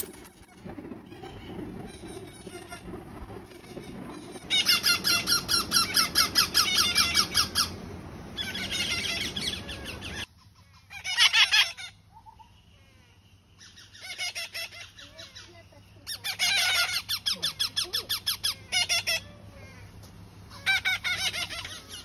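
Parrots at a feeding area screech in loud, harsh, repeated bursts with short pauses between, close by and dominating, while a low hum runs underneath.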